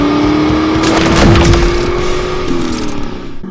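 A 1992 Ford Mustang GT convertible with a 5-speed runs on a test drive, its engine loud and near with a tone that climbs steadily and then drops at a gear change.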